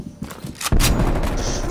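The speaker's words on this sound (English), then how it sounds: "Shotgun is annoying." Shotgun gunfire in Call of Duty Cold War: a few faint muffled pops lead into one loud, close blast at the three-quarter mark that booms and rings out over the rest of the moment.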